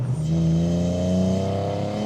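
A BMW E46 330Ci with a 242-horsepower straight-six, a rowdier exhaust and a noisier intake revs loud and close in a smooth, rising engine note, heard alone.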